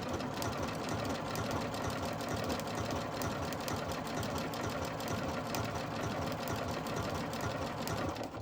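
A sewing machine runs steadily, stitching a triple stitch on fabric with a fast, even mechanical chatter that stays close and constant throughout, with no talk.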